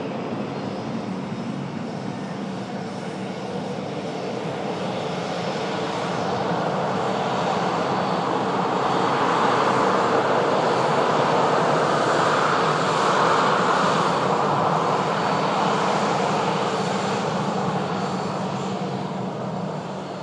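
A KLM airliner takes off from runway 23 left, its engine roar building steadily from a distant rumble to a loud, broad swell that holds through the latter half.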